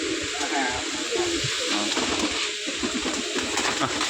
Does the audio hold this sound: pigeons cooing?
yes